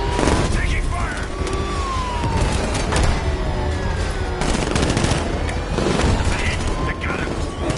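Dense gunfire from Batman Arkham Knight, with rapid bursts and booming impacts layered over a continuous loud battle roar throughout.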